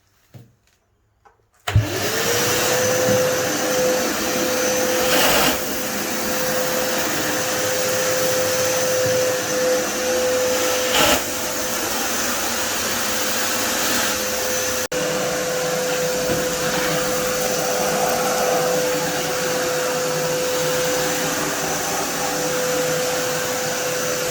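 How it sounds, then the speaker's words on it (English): A loud, steady vacuum cleaner roars continuously at close range with a constant high whine, switching on after a brief quiet moment and running without pause while cleaning a bathroom floor. "vacuum the whole floor, especially all the internal corners"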